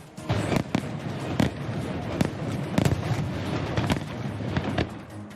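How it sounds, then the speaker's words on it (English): Fireworks at a friendly fireworks competition at Lac Leamy, Gatineau, set off as part of a home team's light show, with repeated sharp bursts and crackling pops over a continuous rumbling roar, loud and fairly close, with no talk. "Le Grand Feu du Casino Lac Limy's friendly fireworks competition continued last night, kicking off with the home team's light show."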